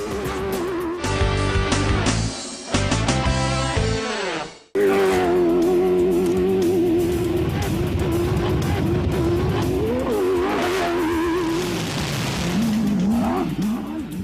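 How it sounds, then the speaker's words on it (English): A 640-horsepower desert rally buggy roars through sand at the Prim 300 desert race, engine loud and close with revving pitch swings, a brief cut, then sustained racing noise with gear changes. "Armin Schwartz takes part in a buggy race."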